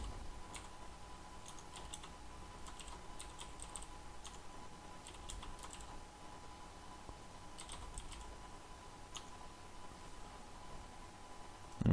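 Typing on a computer keyboard, scattered faint key clicks in short irregular runs over a steady low hiss, with no talking.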